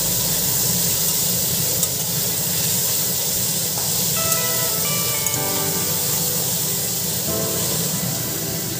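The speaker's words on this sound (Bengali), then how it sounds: "আলু আর সোয়াবিন ভাজা করে নেব সুন্দর করে" Potatoes and soybean chunks frying in a pan, a constant loud hiss and sizzle of hot oil throughout, with a few faint clinks of utensils and no talking.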